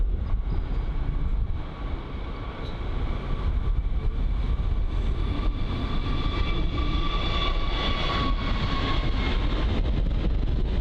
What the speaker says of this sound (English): We'll watch this A320neo first.